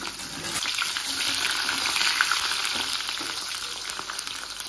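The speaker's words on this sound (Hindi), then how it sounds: "बैंगन को इस तरीके से डीप फ्राई करेंगे।" Small eggplant pieces deep fry in hot oil in a kadhai, making a loud, steady bubbling hiss that stays close and constant, with fine crackles and no talking.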